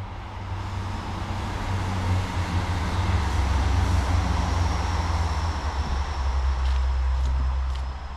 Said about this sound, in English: Is that my train?